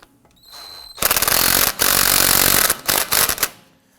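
A power tool snugs down the axle nut on a 2015-2020 Ford F-150 front wheel hub: loud, close bursts of impact hammering with a brief pause and a few short final rattling bursts before stopping.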